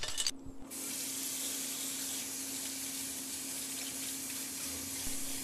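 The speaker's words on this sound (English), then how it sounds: "rinse them in cold water to stop the cooking." Cooked conch rinsed under cold running water, a steady broadband hiss and splash of flowing tap water that runs continuously and fairly loud after a brief initial burst.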